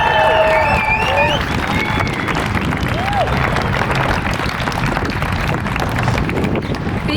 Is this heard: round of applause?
yes